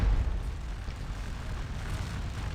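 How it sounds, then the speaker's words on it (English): Artillery fire in the Civil War strategy game Scourge of War Remastered, a steady low rumbling roar of distant booming cannon that stays fairly loud and continuous throughout, with no voices. "They're just going to get bombed on from the artillery out here and run."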